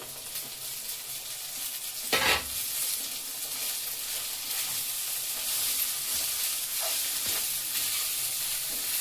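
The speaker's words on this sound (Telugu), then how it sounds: "అన్నం వేసి కలపాలి" Cooked rice and potato pieces for aloo rice are stirred in a hot pan, giving a soft steady sizzle with one loud scrape of a utensil near the start and a few lighter scrapes later, close up with no talking.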